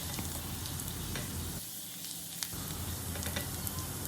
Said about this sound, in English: On medium flame, we will saute the garlic until they turn golden brown and aromatic